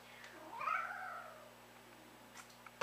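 A very vocal pet cat lets out a single drawn-out, rising and falling meow, fairly faint against a quiet indoor hum, followed by brief small noises.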